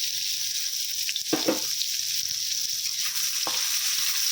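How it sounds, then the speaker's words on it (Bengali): Chopped onions dropped into hot oil, sizzling steadily up close, with a couple of brief stirring scrapes and no talking. "তেলের মধ্যে দিয়ে দিচ্ছি কেটে রাখা পেঁয়াজ"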